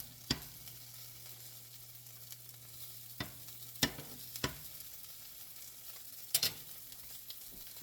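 A cheese omelette sits cooking in a pan with a soft, even sizzle, punctuated by a few sharp clicks and taps of a utensil, with no speech.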